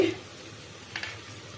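Onions, ginger and garlic frying in hot oil for a chicken gravy, a soft steady sizzle close by with a brief stir or clink partway through.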